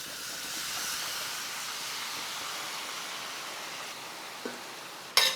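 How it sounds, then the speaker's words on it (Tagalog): Beef being sautéed in a pan for caldereta, a steady broad hiss of sizzling that fades slightly, with a faint tap near the end and a sharp clatter at the close. "igisa muna natin yung baka"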